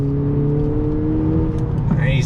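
A 2020 Honda Civic Si sedan accelerating hard in second gear, engine note rising loud and close from inside the cabin, with a brief burst of other noise near the end.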